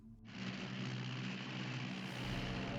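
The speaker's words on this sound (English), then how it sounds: "But somehow, her torpedo bombers find them." WWII torpedo bomber engines, Devastators at the 1942 Battle of Midway, roar in a steady, dense drone that stays loud and unbroken throughout, with no voices.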